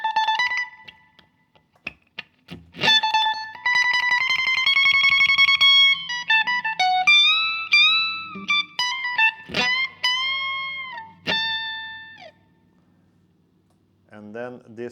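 Slow blues guitar solo phrase in clean, singing single notes with bends and vibrato, separated by pauses and ending in a few faint notes.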